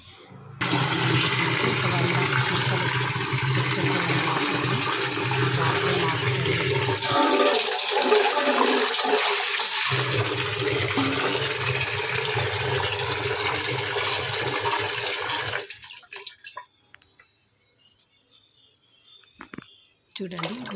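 Strong, steady rush of running water washing mango pieces for pickle for about fifteen seconds, then it cuts off, leaving quiet with faint drips and small knocks.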